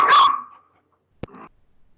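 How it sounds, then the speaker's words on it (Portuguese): A small dog gives one loud yelping bark that trails into a whine, then after a pause a short sharp yip followed by a faint whimper, heard alone with no talking. "O cachorrinho ficou agoniado com a aula de química."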